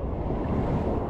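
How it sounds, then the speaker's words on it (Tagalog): Ocean waves wash steadily at Kite Beach in Dubai, a continuous broadband surf roar with some wind buffeting the microphone, close and fairly loud with no pauses. "Look at the wave."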